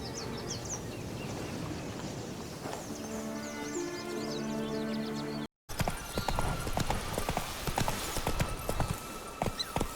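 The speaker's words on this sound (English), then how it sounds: "Run, Roach" Hooves of Roach, Geralt's horse in The Witcher 3: Blood & Wine, clip-clop steadily at a gallop over a continuous game ambience, close and moderately loud, with a brief cut midway before the hoofbeats resume amid busier background sound.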